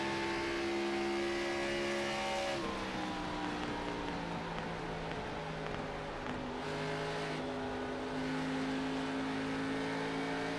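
A race car at Darlington runs steadily with its engine note rising and dipping as the driver floats and feathers the throttle, a sustained loud drone with shifting harmonics throughout.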